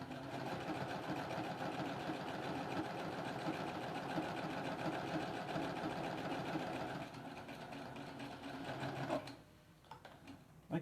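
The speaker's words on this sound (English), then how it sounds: "I'm going to flip it over and sew." A sewing machine stitches half square triangle quilt blocks, a steady close mechanical whir that runs for about nine seconds, eases slightly partway through, then stops with a few faint clicks.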